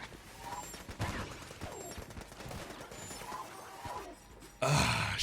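Rapid, light shots from a machine pistol patter in repeated bursts in the bullet-hell game Enter the Gungeon, mixed with grunts and game effects, ending in a louder noisy blast.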